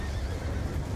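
A horse whinnies loudly over a steady low rumble of hoofbeats in the video game Call of Duty: Black Ops 2, continuous for about a second.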